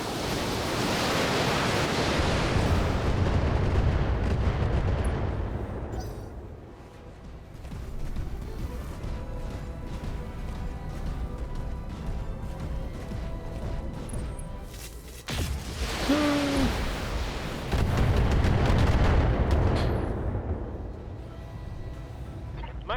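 Heavy rumbling blasts and roaring broadband booms from BattleTech mech weapons fire, loud and sustained, with a lull in the middle before another big explosive surge; a steady hum underneath.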